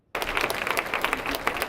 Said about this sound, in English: That applause was for Toledo Federation of Teachers President Kevin Dalton